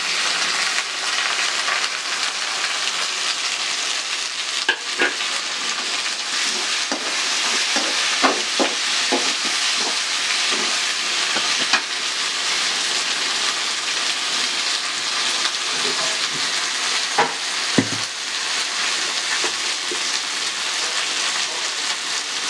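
Steady, dense sizzling of tomatoes frying with curry leaves in an oiled pan, continuous and close, with occasional stirring clicks and scrapes and no talk.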